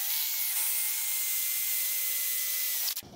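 A drill bores a hole through the cast rear axle housing of a junkyard Super Duty axle, a steady loud whine with strong harmonics that runs alone for about three seconds before cutting off abruptly.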